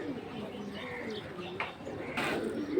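Pigeons coo at a bird market, with soft, repeated throaty coos and occasional chirps against a busy background murmur. A sharper burst of noise arrives near the end.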